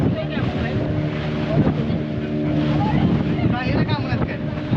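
Sea off Malvan around a moving boat: a steady rush of water and engine drone with heavy wind buffeting the microphone, while people talk over it.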